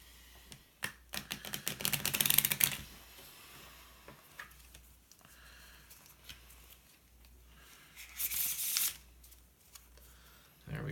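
A deck of game cards is shuffled at close range in two quick riffling bursts, each a crisp rapid flutter, with quieter handling between them and a voice nearby.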